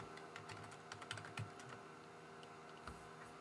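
Keys clatter in quick, uneven bursts as someone types a formula into an Excel spreadsheet on a computer keyboard, soft and close with a steady faint background hum and no talking.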